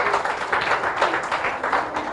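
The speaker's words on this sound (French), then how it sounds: "On applaudit très fort pendant que Moni Gaillé reprend le souffle." Audience in a gospel church broadcast applauding loudly and steadily, a dense, continuous wash of clapping filling the room with no pauses.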